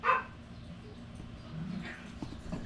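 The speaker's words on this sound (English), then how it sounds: "Here's the shop puppies to say hello" Puppies at a shop give one sharp bark at the start, then soft whimpers and yips follow faintly over a quiet background.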